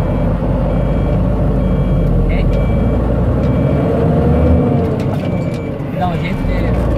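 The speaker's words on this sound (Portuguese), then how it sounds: "esse caminhão faz muito barulho" A truck on the BR 116 highway in Brazil sends a loud, steady low rumble throughout, with repeated high beeping tones cutting through the constant heavy engine noise.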